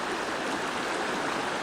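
Maligne Canyon's river rushes steadily at the end of the canyon near Jasper, a dense, continuous roar of flowing water close by with no voices.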